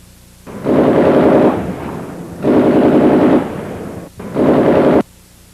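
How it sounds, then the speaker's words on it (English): Automatic rifle fire from the 1997 North Hollywood bank robbery shootout rips out in three loud, sustained bursts separated by short pauses. "Still surrounded, Phillips took cover before unleashing another barrage of gunfire."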